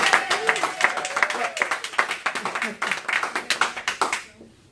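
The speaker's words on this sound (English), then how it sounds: "People, are we going to give the man a round of applause?" An audience at a team meeting applauds a mortgage company sponsor with steady, fairly close hand claps that fade out at the end, voices murmuring underneath.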